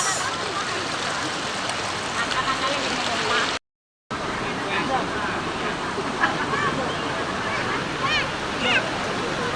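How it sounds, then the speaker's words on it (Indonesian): River at Gerbang Raung flowing as a steady broadband rush of water, close and continuous, with voices talking over it and a brief cut in the middle. "untuk sungainya ya, guys. Sungai Gerbang Raungnya"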